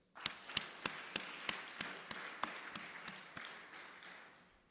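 Audience at the closing session of the 12th Tanzania Health Summit clapping in a slow, evenly spaced rhythm, about fifteen sharp claps over a faint room wash, fading toward the end.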